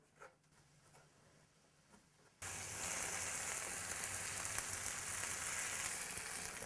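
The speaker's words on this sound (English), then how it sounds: "Starting to fry now." Food starts frying in a pan as an older cook makes a Depression-era poor man's meal: after a quiet stretch a dense, steady sizzle suddenly begins and continues loud and close to the end.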